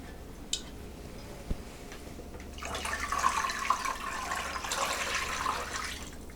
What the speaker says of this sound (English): That's why I will strain the broth now.